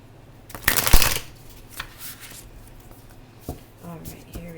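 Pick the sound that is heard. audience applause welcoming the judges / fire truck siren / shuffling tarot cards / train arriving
shuffling tarot cards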